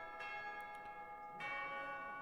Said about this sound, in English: I also like that the school bell is the Fire Emblem theme.